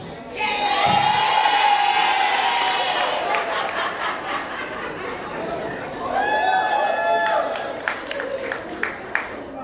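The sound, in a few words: audience applause and cheering at awards ceremony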